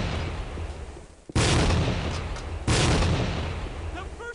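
Two grenade explosions in the tactical shooter Tactical Ops, each a sharp, loud blast that cuts in abruptly and decays over about a second, close together with a short gap.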